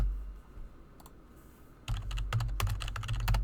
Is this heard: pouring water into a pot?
no